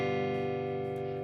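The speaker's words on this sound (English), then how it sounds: "A G dominant 7 sounds like this." A single G dominant 7 chord rings out on guitar, its sustained strummed notes blending into a rich, even harmonic tone that fades slightly over about a second, with no talking.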